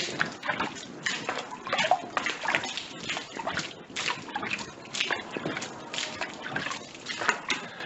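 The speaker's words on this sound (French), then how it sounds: "il va falloir arroser copieusement ton mur" Water hosed generously over a stone wall during repointing splashes and spatters steadily, close and fairly loud, with a continuous wet, irregular spray.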